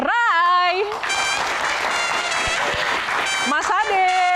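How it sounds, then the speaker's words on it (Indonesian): Audience applause at an Indonesian Q&A talk show welcoming a guest, clapping heard beneath a host's amplified voice speaking over it, with music tones at start and end. "Mas Ade, tepuk tangan sekali lagi."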